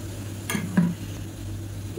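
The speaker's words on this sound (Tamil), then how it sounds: "இப்போ அதில் நம்ம அடித்து வச்சுருக்க இந்த தயிரை சேர்த்துக்கலாம்" A spoon stirs beaten curd into rice porridge (kanji), giving two quick close scrapes or clinks near the start over a quiet background.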